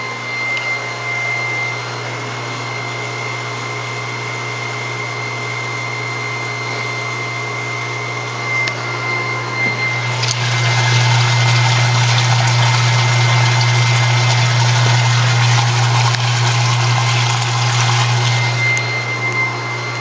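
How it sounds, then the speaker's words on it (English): A fuel pump transferring homemade biodiesel runs as a steady motor hum and whir, growing louder and fuller about halfway through as the flow picks up, continuous and close with no talk. "Here's another shot of the fuel pump, how I've got it set up."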